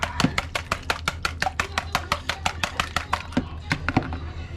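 Whisk beating custard pie filling in a bowl, a rapid even run of sharp ticking strikes close up that slows and fades near the end.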